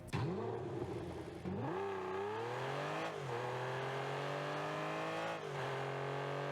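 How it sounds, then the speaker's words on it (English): A video game car engine revs with a high-pitched, steady whine, climbing in pitch in a few smooth sweeps and holding loud and constant throughout, with no voices. "I actually do like this engine sound. The higher pitch actually kind of matches how this car looks."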